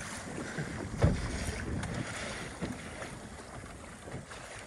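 Wind blows steadily across a rowboat on the water near the Strait of Juan de Fuca, a broad rushing noise with a few soft knocks and gusts rising and falling.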